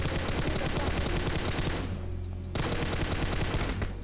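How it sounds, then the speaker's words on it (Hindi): M4 rifle fire in the mobile battle-royale game PUBG Mobile: dense, continuous bursts of automatic gunfire, loud and close, with a brief lull near the middle before shooting resumes. "मैं अपनी M4 निकाल के उस पर 1-2 शॉट कनेक्ट तो करता हूँ"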